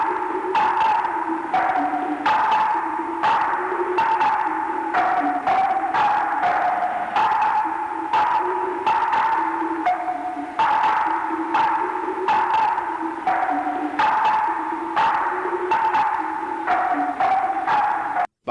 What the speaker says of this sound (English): this scene is backed with what sounds like two people playing ping pong in an echo chamber